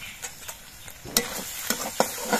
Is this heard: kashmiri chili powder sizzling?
yes